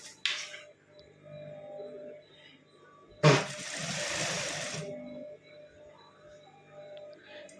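A sewing machine runs a full stitch along a blouse lining, one steady whirring burst of about a second and a half, near and moderately loud, set within quieter handling noises.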